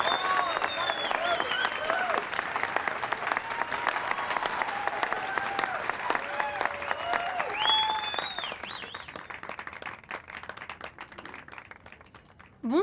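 An audience gives dense, sustained applause to welcome the music duo, with cheering voices rising through the clapping before it thins and fades toward the end.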